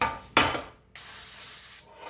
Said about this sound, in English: Spray a pan.